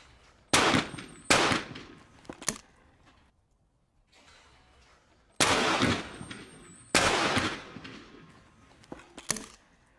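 Shotgun shots at clay targets on a sporting range ring out in loud, sharp bursts, about four shots in two pairs spread over several seconds with quiet gaps between.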